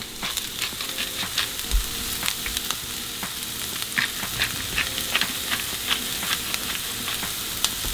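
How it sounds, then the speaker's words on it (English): Garlic and onions sizzle and fry in a hot pan, a steady dense crackle with scattered louder pops throughout, close and continuous with no voices. "Now let's transfer our garlic and our onions over to the heat."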